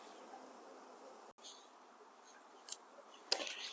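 Honey bees buzz faintly around a beehive nuc during installation into an eight-frame hive, a thin steady drone with a couple of brief louder clicks and rustles near the end.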